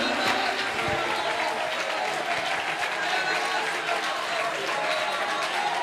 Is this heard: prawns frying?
no